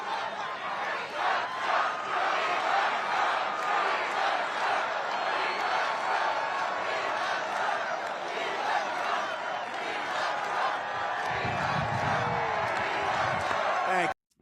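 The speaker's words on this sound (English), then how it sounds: "I think he got heckled again." A large crowd at a Trump rally roars and shouts continuously, dense and loud throughout, with voices rising together and a rumble near the end before cutting off.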